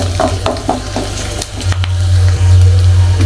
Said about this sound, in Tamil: ஒரு ஏலக்காய் ரெண்டு பட்டை இதையும் மட்டும் நல்லா ஃப்ரை பண்ணிக்கலாம்